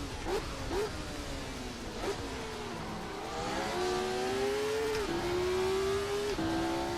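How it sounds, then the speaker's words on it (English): A Ford car engine in the Assetto Corsa racing game with a sound mod revs up and down repeatedly, pitch climbing and dropping through gear changes, loud and steady throughout. "Oh, it's the Ford engine."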